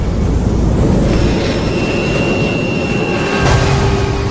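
An airliner flies through strong turbulence over the Cape on a Tampa-bound flight, a loud continuous jet roar with rumbling low-end and faint whining tones, no speech.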